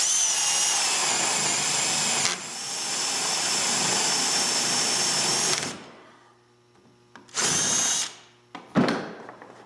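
A power drill countersinks a hole for a 7/16-inch bolt, whining steadily for several seconds with a slight change in pitch partway, then stops; two short bursts of drilling follow.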